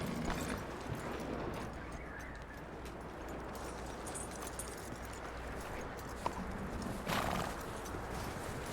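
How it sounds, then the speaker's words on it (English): A horse in Red Dead Redemption 2 whinnies and its hooves clip-clop along, fairly quiet and close, with a neigh standing out near the end. "That looks like a decent horse."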